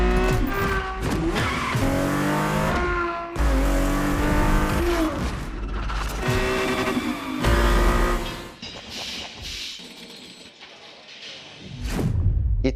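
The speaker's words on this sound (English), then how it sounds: "The Ferrari F50, a bridge between road and racetrack." Ferrari F50 supercar in the racing game The Crew Motorfest, its engine revving hard through repeated gear climbs with tire squeals and skids, loud and close, with no talk.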